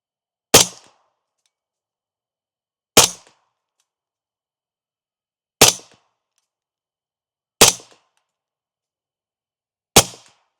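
A rifle chambered in 8.6 Blackout fires five sharp, loud single shots on a range, evenly spaced about two and a half seconds apart, each a crisp crack with a quick decay into silence.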